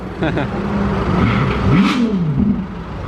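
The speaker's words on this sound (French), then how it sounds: "Le rugissement. Et la F40 est de retour." A Ferrari F40 engine roars and revs in Monaco, its pitch climbing and falling in quick surges, with voices nearby.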